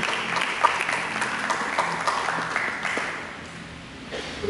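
A church congregation claps continuously, moderately loud with some individual claps standing out, tapering slightly toward the end.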